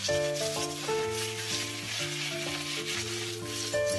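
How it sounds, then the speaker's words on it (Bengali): Potatoes sizzle in leftover fish-frying oil alongside half-fried pointed gourd in a home kitchen, a steady close frying hiss running beneath prominent background music throughout. "পটলটা আধ ভাজা হচ্ছে, তেল মধ্যে আমি আলুগুলো দিয়ে দিচ্ছি।"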